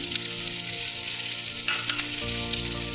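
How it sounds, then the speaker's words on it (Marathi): Chole masala sautéing in a pan with tomato and garlic, a steady broadband sizzle with a few soft stirring scrapes, near and continuous, no voices. "दोन मिनटं परतून घ्यायचं आहे आता आपण त्याच्यामध्ये टमॅटो घालणार आहोत लसूण"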